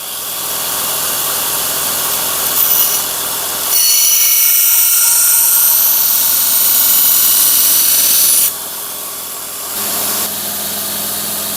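A hewing hatchet blade is ground against coarse abrasive grit, giving a steady, loud, close grinding whir that swells into a harsher, brighter pass in the middle and then settles back to a lower rasp.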